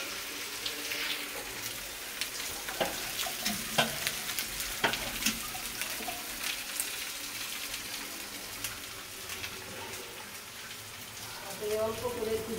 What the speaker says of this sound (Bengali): অল্প করে একটু জল দিয়ে দিলাম।